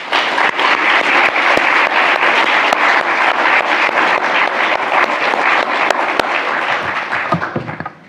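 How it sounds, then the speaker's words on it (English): Conference audience applauding an award given in the authors' absence, dense sustained clapping from a large room that holds strong and then tapers off near the end. "I think we should at least give them some applause."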